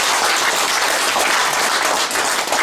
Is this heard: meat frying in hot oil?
no